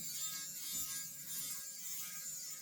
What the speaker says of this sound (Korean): 이거는 휴대용 면도기입니다.